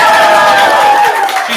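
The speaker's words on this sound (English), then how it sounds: "Keep clapping." Audience at a Christmas improv comedy night applauds in a steady, close wash of clapping and crowd noise, with a voice speaking over it.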